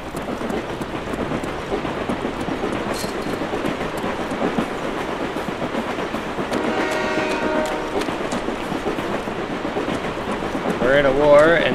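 A train rumbles past with a steady clatter of wheels during a Call of Duty Black Ops match. It stays fairly loud and even throughout, and a player talks over it.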